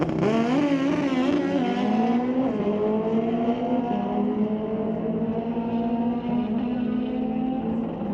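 A Suzuki drag bike makes its run down the drag strip at an NHRA Canadian meet, the engine screaming loud and high as it winds up through several gear changes, then settling into a sustained whine that eases off toward the finish.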